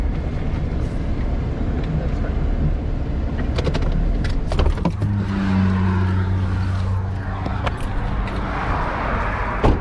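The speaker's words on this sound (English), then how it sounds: "I figured I'd do some driving now." A car driven near a beach campsite, a steady low engine rumble and road noise throughout, with a rising hum partway through as it gets under way.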